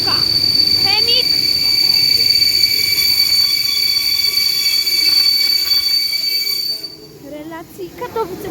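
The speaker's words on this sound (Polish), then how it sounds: "Strasznie zapiszczały wagony, więc przestałem mówić." Railway wagons at the Zawiercie station in Poland squeal loudly and continuously, a shrill metallic whine from the wheels that persists for several seconds before fading, with a voice speaking nearby.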